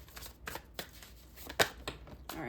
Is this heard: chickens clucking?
no